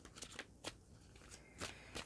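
Tarot cards shuffled on a table in a few quick riffling bursts, each a short crisp papery flutter, fairly faint and close, with quiet gaps between them and no voice.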